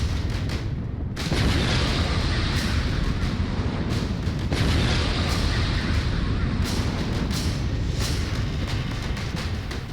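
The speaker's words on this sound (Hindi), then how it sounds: "सीधे निशाने पर यह प्रोजेक्टाइल गिरा, जिसके बाद जबरदस्त धमाका हुआ" War footage of a projectile striking a target during the Ukraine-Russia war, followed by a massive explosion. A sustained, loud, rumbling blast fills the scene with a few short breaks, with no voices.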